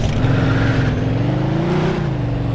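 A car drives in the video game Mafia 2: a steady, loud engine hum holds a low droning pitch, rising slightly near the end as it revs. There is no talking.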